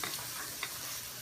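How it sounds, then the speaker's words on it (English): Shrimp sautéing in garlic and oil crackles loudly while being stirred, a brief dense sizzle with a couple of scraping accents. "we threw the shrimp in to start being sauteed in a mixture of garlic and oil"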